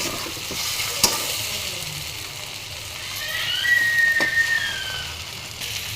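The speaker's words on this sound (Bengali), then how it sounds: "আমি ইলিশ মাছটাকে ভালো মতো কষাবো" Hilsa fish being sautéed in a pan with onion and chilli, a steady moderate sizzle with occasional stirring knocks and a thin whistling tone partway through.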